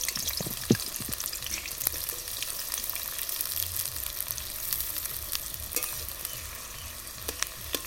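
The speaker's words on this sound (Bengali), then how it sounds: "পেঁয়াজগুলো আমি কেটে রেখেছিলাম বেরেস্তা ভাজার জন্য" Sliced onions fry in white oil in a kadai for biryani beresta, giving a steady, close, dense sizzle with scattered pops and occasional stirring scrapes throughout, no talking.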